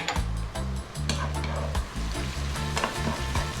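Red chilies, seeds kept in, with seafood sizzle and spit loudly in a pan over lively heat, a dense steady frying hiss with crackles and stirring knocks throughout.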